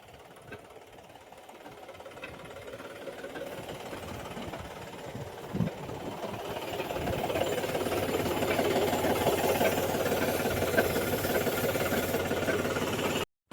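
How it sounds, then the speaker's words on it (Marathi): A small motorized pesticide sprayer engine drones steadily and loudly in a custard apple orchard, growing louder partway through, with a rough, knocking mechanical rattle. "हे आपली मशीन फवारणी करायची कीटकनाशक"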